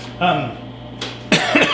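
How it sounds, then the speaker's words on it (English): A couple of sharp coughs near the microphone, with a bit of voice before them, brief and fairly loud. "COVID cough."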